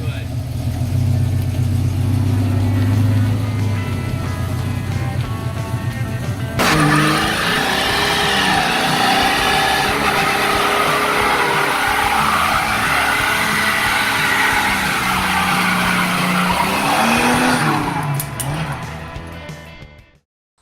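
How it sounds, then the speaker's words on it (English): A Ford Falcon does a burnout at an Aussie hotrod show: a deep idle gives way to sustained loud revving and a long tire squeal with crowd noise, before it cuts out abruptly. "who wants to see a Falcon burnout?"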